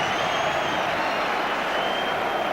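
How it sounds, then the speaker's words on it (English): A home crowd at a 1990 Queens Park Rangers versus Liverpool football match applauds and cheers a substitute coming on. The ovation is a dense, steady wash of clapping and crowd noise that holds evenly throughout. "He gets a big ovation from the home crowd."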